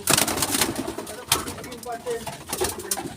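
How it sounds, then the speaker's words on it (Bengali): Racing pigeons at a pigeon farm coo in soft, repeated low calls amid a busy loft, with occasional wing flutters and someone talking over them. "এই যে কবুতর, এই যে রেসার কবুতর"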